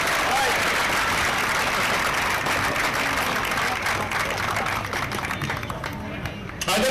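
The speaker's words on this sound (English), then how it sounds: "you guys ought to give yourselves a round of applause" A crowd at an outdoor Tea Party rally on Boston Common applauds loudly and continuously for several seconds, with a dense wash of clapping and some background murmur before it begins to thin.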